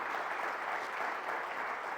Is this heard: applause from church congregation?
yes